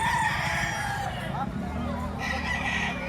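A rooster crows at a poultry auction market, its call rising and falling over background chatter, with a second crow or cluck following shortly after; voices are heard nearby.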